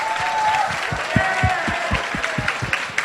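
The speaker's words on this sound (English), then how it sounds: "Give Shri Vasamseti and Rohan Kapoor a big round of applause" An audience of hackathon participants applauds the HackIllinois 2016 directors at the closing ceremony, a loud sustained clapping crowd with rhythmic heavier claps or stomps pulsing underneath.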